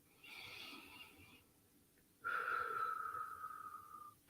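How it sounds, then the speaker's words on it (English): Slow, calm breaths drawn in through the nose during a guided meditation, close and soft, with a long steady airy inhale after a shorter one and no talking. "So we're breathing in through our nose and out through our mouth."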